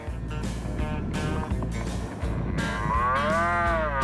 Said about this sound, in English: the new ambulance siren sounded too much like a cow mooing